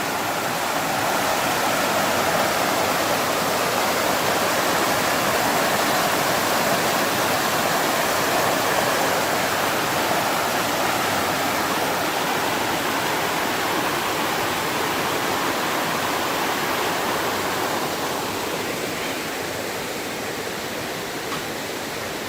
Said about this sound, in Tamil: இங்கே ஏதோ ஒரு அருவி ஓடிட்டு இருக்கு, அதே கொட்டாக்குடி ஆறு தான்.